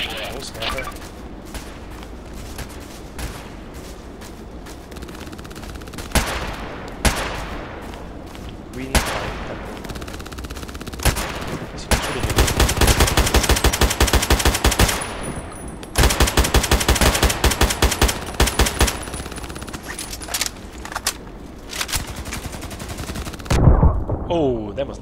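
Gunfire in the video game Contract Wars, including an AKMS rifle: rapid automatic bursts and single shots in repeated loud clusters, close and sharp, with explosive booms in between.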